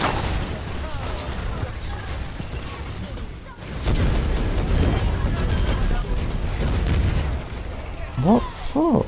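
D.Va's self-destruct bomb goes off in a competitive Overwatch match: a loud, sustained explosive boom and rumble over dense battle noise, followed by a couple of rising whistling tones near the end.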